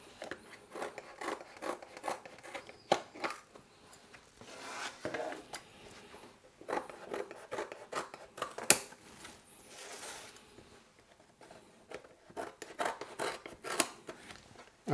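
A knife trims the sides of a sponge cake for a mixed fruit shortcake, making soft, repeated scraping and rubbing strokes with light taps. The strokes are faint and close, and there is no talk.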